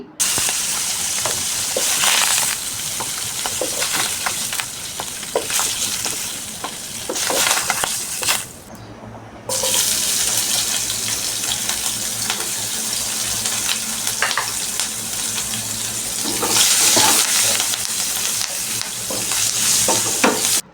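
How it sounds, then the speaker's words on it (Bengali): Pieces of fish fry in hot oil in a pan as they are turned, giving a steady, close sizzle with stirring noises. The sound drops out briefly midway, then a low hum joins the frying. "সুন্দর করে মাছগুলোকে আমি উল্টে পাল্টে একটু লাল লাল করে ভেজে নিচ্ছি"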